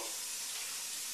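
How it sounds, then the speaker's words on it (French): Tap water runs steadily through a fine-mesh sieve, rinsing small seeds for a vegetable pâté, a continuous close hiss of flowing water with no talking. "On rince bien jusqu'à temps que l'eau soit claire."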